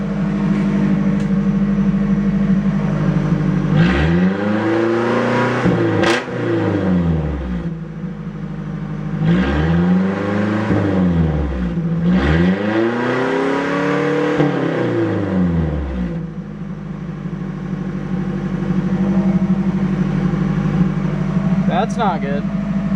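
Nissan Hardbody truck engine, smoking heavily from a possible blown head gasket, runs steadily and rises through three or four revs that sweep up and fall back, with someone talking over it.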